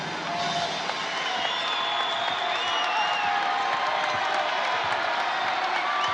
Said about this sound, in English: And the crowd that has been put to sleep by the visitor is awake now.